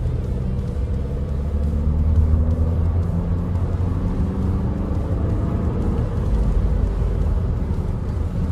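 A Skoda Superb's engine rumbles low and steady from inside the car, with road noise and no voices.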